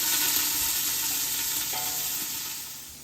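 About a quarter cup of pancetta browns in oil in a pot, sizzling loudly and steadily, then fading slightly toward the end.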